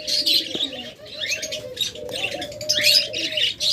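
Caged pet birds for sale in a market setting, pairs of doves and small songbirds, with steady high chirping and tweeting throughout and soft cooing underneath, fairly close and continuous.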